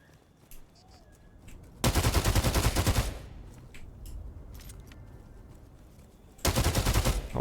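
Two loud bursts of automatic gunfire in the video game Histera, each lasting about a second, separated by quieter ambient game sound with scattered faint single shots.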